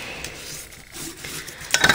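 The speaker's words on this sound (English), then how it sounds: "So now let's go ahead and fold and burnish on all our score lines." Paper being folded and burnished along score lines for a favor box: a close, steady rubbing and scraping with soft friction strokes, ending in a brighter, sharper swipe.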